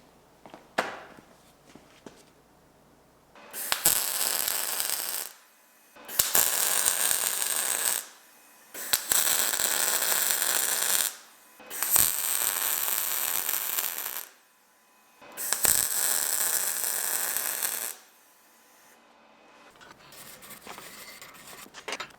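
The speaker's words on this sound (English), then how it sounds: "we'll get it in the vise and we'll finish weld it up" Quarter-inch steel plate is finish-welded in a vise: five bursts of loud crackling arc, each lasting a couple of seconds, separated by short quiet pauses, with faint handling noises in between.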